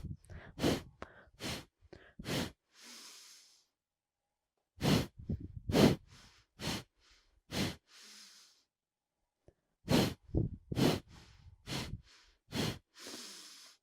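Breath of Fire yoga breathing, several clusters of quick, forceful nasal exhalations, each rapid series ending in a longer soft breath, close and clear with silent pauses between rounds.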